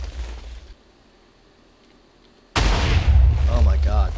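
TNT cannon blasts in the video game Minecraft: a short burst of explosions, then near silence, then a loud sustained barrage of booms and crackling detonations to the end.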